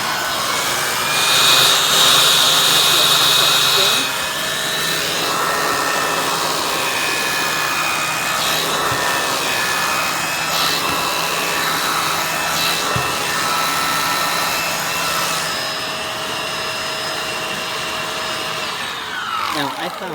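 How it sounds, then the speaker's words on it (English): A Bissell MultiClean Allergen Pet upright vacuum with HEPA seal runs on steps, a close, steady motor whine and airflow roar that holds throughout with slight shifts as it is pushed and pulled. "I'm just going to show you on steps how it works"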